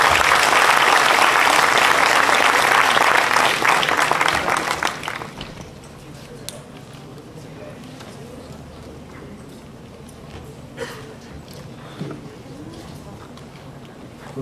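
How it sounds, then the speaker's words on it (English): Audience applause for a speaker at a youth session, loud and dense for about five seconds before fading to faint room noise with a few scattered claps. "Let's give him a big round of applause."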